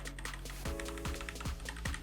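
Keys being pressed on a Keychron K4 V2 wireless keyboard, a quiet run of crisp clicks at an uneven typing pace, close up and with nobody speaking.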